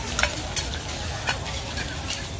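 Oyster omelette stir-fried in a giant pan at a street-food event, loud continuous sizzling with repeated metal spatula scrapes and clanks, no talking.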